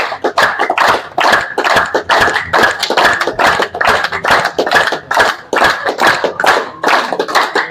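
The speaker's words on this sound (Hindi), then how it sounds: "और ताली मन से बताइए।" An audience claps hands together in a continuous, strong rhythm of sharp, closely spaced claps, loud and near, with no talking over it.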